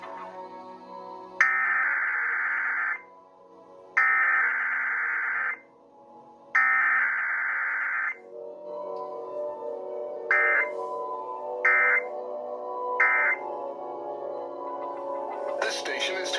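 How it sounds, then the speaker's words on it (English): Emergency Alert System test tones broadcast on KDKA radio: three long, loud buzzing tone bursts with gaps between them, then three short bursts, followed by a rising digital screech. No one speaks. "The following is a test of the EAS."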